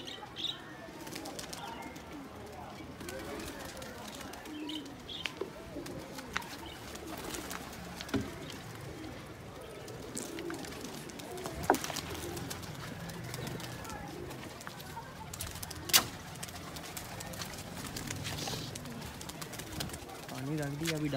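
Pigeons coo softly amid occasional wing flaps as they are fed millet, with people talking quietly throughout under a steady outdoor background.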